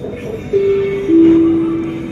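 Bangkok MRT Blue Line metro train running on its approach to Bang Yi Khan station, a close steady rumble with a rising electric whine that holds and steps up in pitch, no talk.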